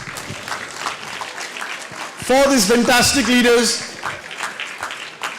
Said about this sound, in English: Everyone, one more round of applause